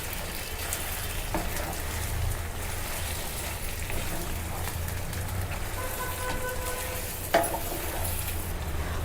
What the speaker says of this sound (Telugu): ఇప్పుడు ఇది కలుపుకుందాం, చికెన్ని కలుపుకుందాం.